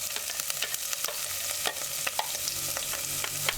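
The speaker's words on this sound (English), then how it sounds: "add chopped onions in the saucepan. Use a cooking spoon, stir it." Chopped onions are stirred with a cooking spoon in hot oil in a saucepan, a close sizzle and fry with quick scraping strokes of the spoon at an irregular pace.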